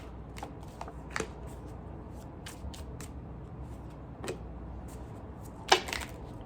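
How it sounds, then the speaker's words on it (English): Tarot cards drawn from a deck at a reading: soft papery flicks and light card snaps come at scattered moments over a quiet background hiss, close but faint, with one crisper slap near the end. "let me go ahead and pull 3 cards for Daria"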